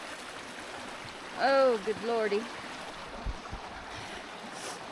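River water rushing steadily at a hiking river crossing near a waterfall, a continuous broadband wash heard close, with a brief exclaiming voice over it.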